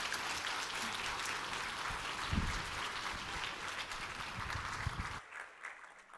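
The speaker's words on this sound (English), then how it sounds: "will you join me in just thanking Tracy with a round of applause?" A professional development audience gives a full round of applause to thank a speaker after a talk on generative AI, steady dense clapping that stops abruptly near the end.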